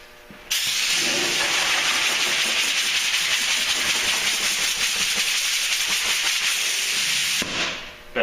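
Epoxy primer sprayed from a spray gun onto a bare-metal wheel arch of a Duramax truck: one continuous, loud, close hiss lasting about seven seconds, starting and stopping abruptly, with no talking.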